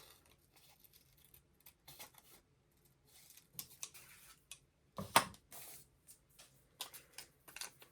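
Scissors fussy-cut around a picture in a magazine page for a glue book, close and quiet, with short snips and paper rustles coming in irregular bursts.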